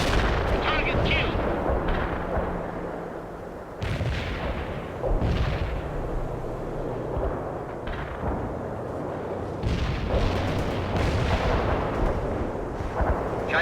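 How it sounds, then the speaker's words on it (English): In the video game World in Conflict, an artillery strike lands as a series of heavy booming explosions several seconds apart, each rumbling and fading over a continuous roar of battlefield noise. "Requesting artillery strike on coordinates."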